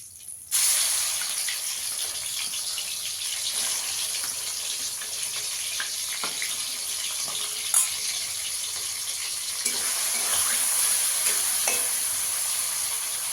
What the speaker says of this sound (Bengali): এবার চিংড়ি মাছটাও ভেজে নেবো এই তেলে।